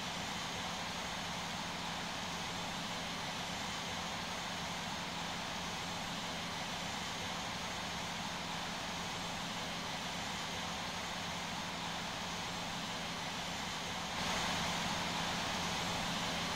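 An MD-11 taxiing in a flight simulator gives a continuous, steady roar and whine of its jet engines at idle, broadband and unchanging, with a slight shift in tone near the end.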